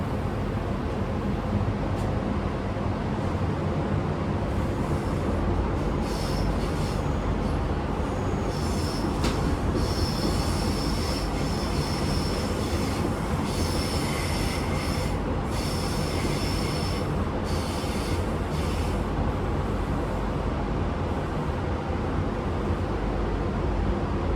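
Oscar H set passenger train running steadily on the rails, a constant loud rumble from inside the carriage with repeated high wheel squeals rising and fading, and no talking.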